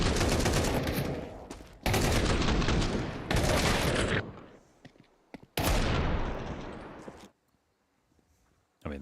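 Rapid bursts of gunfire from a Counter-Strike match, with Desert Eagle pistol shots among the exchange; loud, dense volleys come in several blocks separated by brief gaps, then drop to near silence before one last burst.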